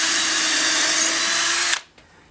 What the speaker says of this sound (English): drill pilot holes in it